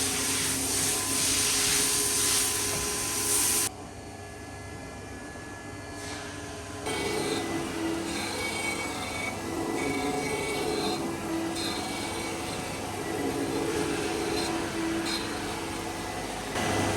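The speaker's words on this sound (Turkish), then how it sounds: "bir süre bu şekilde güzelce taşlanacak" A grinding machine resurfaces a car cylinder head with a burnt gasket, giving a continuous loud mechanical drone and hiss up close. The level drops briefly partway through, then holds steady again.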